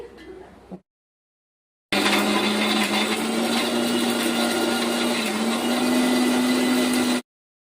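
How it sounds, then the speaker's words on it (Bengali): A kitchen mixer grinder blends boiled pumpkin leaves with coconut and chili, roaring loudly and steadily for about five seconds before stopping abruptly, after a brief short sound and a pause. "আমি কুমড়ো শাকটা দিয়ে দিচ্ছি মিক্সির মধ্যে"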